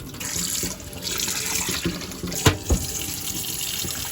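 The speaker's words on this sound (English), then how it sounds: "rinse it a third time" Tap water runs steadily into a sink while yu choy greens are rinsed by hand, a close, continuous splashing stream with a couple of sharper splashes near the end.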